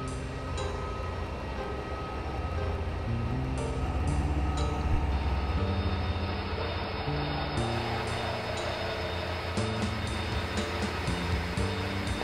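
Trains rumble along the tracks in the railway simulation game OpenTTD, a continuous loud rolling and droning with shifting engine tones and occasional higher whines, heard alone without talk.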